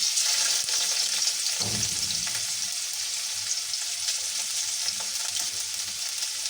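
Potato pieces, drumstick, onion paste and ginger paste frying in a pan, a steady loud sizzle with a short wet burst as the pastes go in, then crackling continuing alone.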